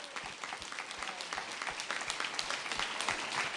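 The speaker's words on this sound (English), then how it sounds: "please give my mom's amazing organizers across the state a big round of applause" An audience at a campaign event in Johnstown, Pennsylvania, claps for campaign organizers: soft, fairly distant applause with individual claps audible throughout the short stretch.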